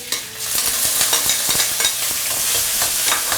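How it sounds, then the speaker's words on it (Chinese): Pickled chilies, pickled radish, garlic and pickled ginger are stir-fried in lard and mixed oil over the highest heat, with a loud continuous sizzle and rhythmic scraping of the spatula in the wok. "最大的火给它爆香"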